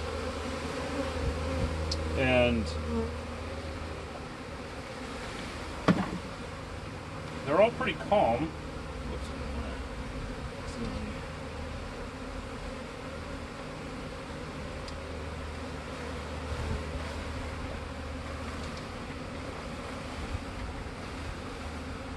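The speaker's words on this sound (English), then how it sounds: "You can hear a lot of buzzing, but you can tell that they're not angry." A steady, low hum of thousands of calm honey bees buzzing close by at a newly installed hive, with a few louder passes and a person speaking briefly over it.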